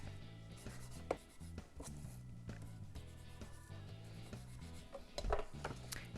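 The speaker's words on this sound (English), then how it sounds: "I'm going to just gently rub off the excess." Excess foil is rubbed gently off stamped cardstock, giving quiet close scratchy rubbing strokes in an uneven rhythm with a few soft taps, faint overall.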